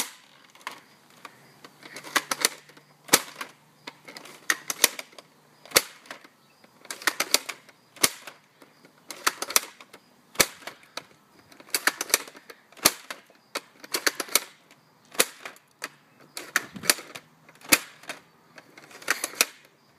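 A modified Nerf gun with its air restrictor removed and trigger mechanism adjusted fires darts in a long series of sharp, close snapping shots, some single and some in quick bursts, with quiet gaps between them.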